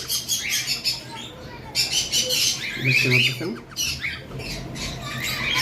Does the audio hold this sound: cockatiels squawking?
yes